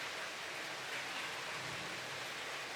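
Soft, even rainfall heard as a faint continuous hiss, unbroken and without any talking.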